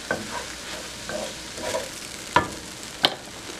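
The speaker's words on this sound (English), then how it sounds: "Sort of scrape up all that flavor from the bottom of the pan." Mushrooms fry in a pan after a splash of white wine vinegar, under a soft steady sizzle with a utensil scraping and stirring across the pan bottom. Two sharper clacks stand out near the end, heard up close without talk.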